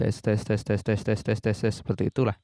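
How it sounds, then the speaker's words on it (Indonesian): A robotic voice processed by the vocoder effect of a Zoom RFX-2000 repeats one short syllable about nine times in a steady rhythm, then speaks a brief phrase. "Ini adalah suara vocoder."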